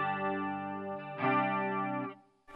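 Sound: guitar amplifier chorus effect

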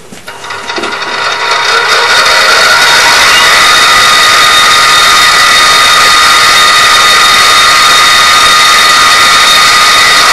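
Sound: X2 mini mill running on gear drive, low range

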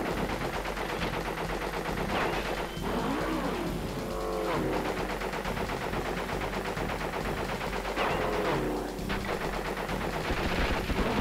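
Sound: gunfire from the video game Crash Bandicoot: Warped

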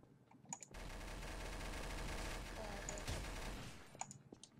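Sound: gunshots in the video game Garry's Mod TTT

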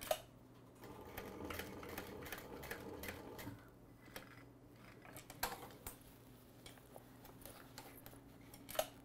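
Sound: sewing machine stitching a bag

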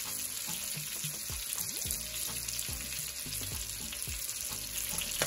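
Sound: salmon frying in a pan

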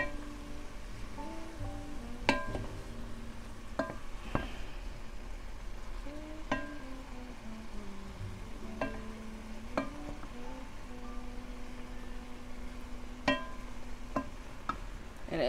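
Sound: stirring cauliflower rice cooking in a pan

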